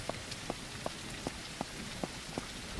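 Rain falls in the video game SurrounDead, a steady hiss of drops with faint regular ticking pulses repeating about every third of a second, no talking.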